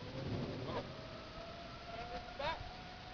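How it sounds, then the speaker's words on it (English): A civil defense tornado siren during tornadic thunderstorms in 2011, turned back on, rising and falling in two distant wails over steady background noise. "That's a regular siren."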